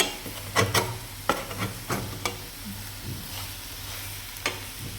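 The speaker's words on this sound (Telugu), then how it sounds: "ఈ కలుపుకోవడం ఒకటే కొద్దిగా అడుగంటున్న కలుపుకోవాలి" A raw banana stir-fry sizzles in a pan while a spoon stirs it, scraping the pan in several sharp clicks over a steady frying hiss.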